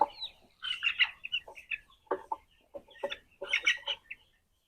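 Chickens cluck in scattered bursts, several birds calling close by on a poultry farm with about 800 birds, with short gaps of quiet between.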